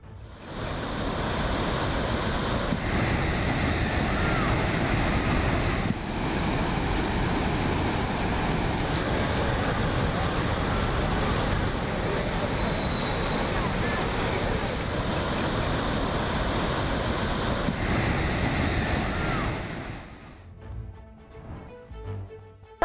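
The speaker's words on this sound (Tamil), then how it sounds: "திற்பரப்பு அருவியில் தண்ணீர் ஆர்ப்பரித்து கொட்டுகிறது" Thirparappu waterfall on the Kothai river in Kanyakumari district, swollen by floodwater, roars in a loud, steady rush that fades out near the end.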